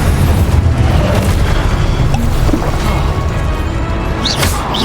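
Hogwarts Legacy combat with the Incendio fire spell, a loud sustained roar of booming blasts and crackling bursts, dense and continuous, with sharp whooshing spell effects near the end.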